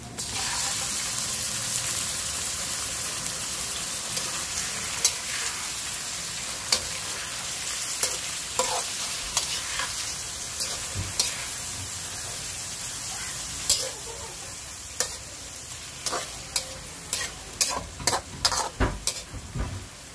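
Chicken pieces sizzle and fry in a pan for chicken mechado, with steady crackling and repeated sharp scraping clatters as the meat is stirred, growing busier toward the end; no talk.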